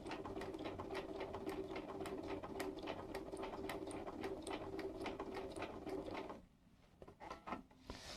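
A sewing machine stitches a curve with rapid, even mechanical clatter and a steady whine, fairly quiet and close, then slows and stops near the end with a few scattered clicks.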